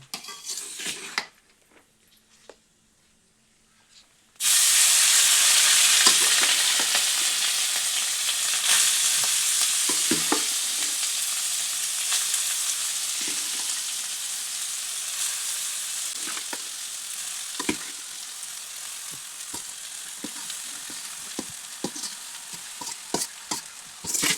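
Boiled rice tossed into hot oil with lightly fried cloves, cardamom and cinnamon for orange rice bursts into a loud, steady sizzle after a few quiet seconds, with scraping stirs running under it to the end.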